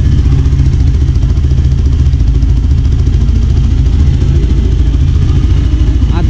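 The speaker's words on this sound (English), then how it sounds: "exhaust sound" A Yezdi motorcycle idles with a loud, steady exhaust burble, close up and continuous, with a faint voice in the background.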